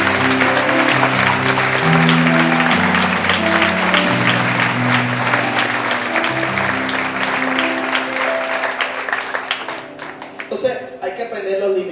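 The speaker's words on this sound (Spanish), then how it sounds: "Vamos a darle un aplauso al Rey" A church congregation applauds during a sermon, a dense, sustained wash of clapping that fills the room for several seconds and then tapers off, with a voice and sustained tones carrying over it.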